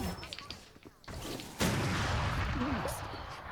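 Gunfire in a shooter video game, with a quieter stretch at first, then from about a second and a half a dense, continuous roar of overlapping shots and blasts that stays loud to the end.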